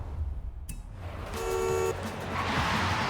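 Car horn in Forza Horizon 5, a single steady honk lasting about half a second, heard over a low engine rumble and ambient game sound, fairly clear in the mix.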